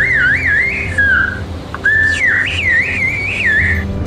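A person whistles a whistled language in a clear, loud, warbling melody, with pitch rising and falling in phrases and a short pause in the middle, heard alone.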